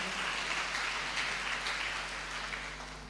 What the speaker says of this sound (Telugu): గట్టిగా చప్పట్లు కొట్టండి, గట్టిగా.